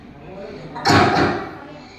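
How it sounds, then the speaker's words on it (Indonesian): A door opens from a bedroom with a single broadband whoosh and thump that swells and fades over about half a second against a steady background hiss. "Terdengar suara dari kamar pintu Dea terbuka"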